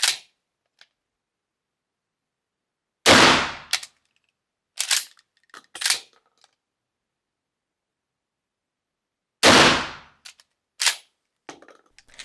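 A shotgun fires modern-hulled shells loaded with decades-old powder, giving two loud, sharp blasts seconds apart, each followed by rapid clattering action and mechanical clicks, with near silence between.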